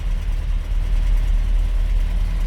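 A GAZelle's 2.5-litre 402 petrol engine with a Solex carburetor idling just after a cold start: a steady, low, continuous rumble, close and even.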